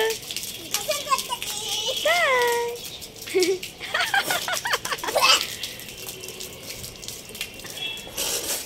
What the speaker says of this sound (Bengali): এক জায়গায় দাও পানি, চারিদিকে ছড়িয়ে যাচ্ছে তো বাবা।